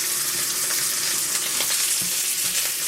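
Pork belly rectangles searing in a hot pan, a steady loud broadband sizzle throughout with small pops and crackles, close up and with no voices.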